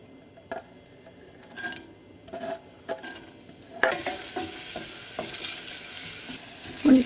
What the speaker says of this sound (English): Add about 2 tablespoons of olive oil, medium heat. Fry your onions.